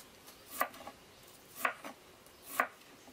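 A knife strikes a cutting board three times at a slow, even pace, chopping greens and vegetables outdoors in a forest setting for baked cod with wild greens. Each crisp knock is close and distinct, with quiet gaps between.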